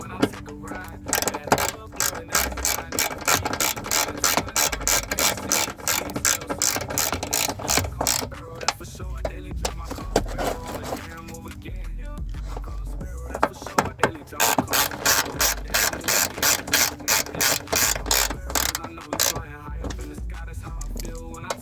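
A ratchet tightens 7mm bolts on the glove box of a 1984 Oldsmobile Cutlass, fast rhythmic clicking in repeated bursts with short pauses between strokes, close and loud.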